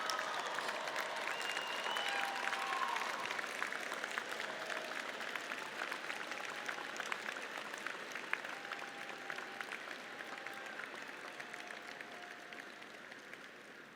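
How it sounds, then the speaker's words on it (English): An audience at a university spring commencement ceremony applauding graduates' loved ones: a dense, steady wash of clapping from a large crowd that carries on for the whole stretch and slowly tapers slightly, with faint crowd murmur underneath. "give your loved ones a round of applause"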